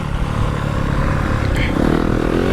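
A Yamaha YZ250FX dirt bike engine chugs and revs while riding a trail, a close, steady buzzing drone with a brief rise in pitch partway through and a voice talking over it.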